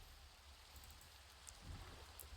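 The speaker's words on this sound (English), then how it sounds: "And of course it's raining now." Steady rain falling in a Minecraft-style survival game, a constant even hiss throughout with a slight swell near the end, no voices over it.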